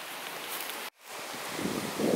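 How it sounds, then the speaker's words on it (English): Wind blowing outdoors at a park, a steady rushing buffet of noise against the microphone that cuts out for a moment and then swells again, with no talking. "It's so windy out here today."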